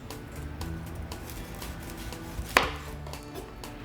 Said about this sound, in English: We're going to slice up the sausages.